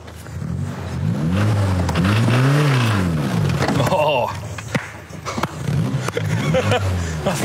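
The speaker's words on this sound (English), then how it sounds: "He's about to create some by sacrificing his Nissan on the concrete altar of the burnout pad." A Nissan car doing a burnout on a concrete burnout pad, its engine revving up and down in sweeping loud surges with tire roar, close and intense, later dropping to rougher idling revs.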